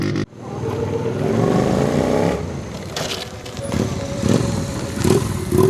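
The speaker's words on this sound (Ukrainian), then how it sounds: "хвилюючий рев потужних двигунів" Powerful motorcycle engines roar and rev at an outdoor bike festival, a continuous loud rumble with rising revs and a few sharp bursts, no talking.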